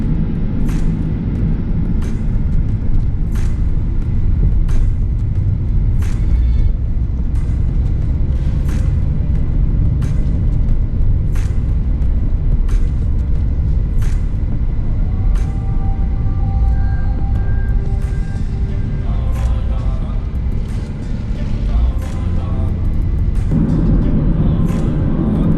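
A car is braked hard on the road while being tested for a shaking steering wheel, giving a loud steady rumble of road and engine noise with faint regular ticking clicks above it, and no talk.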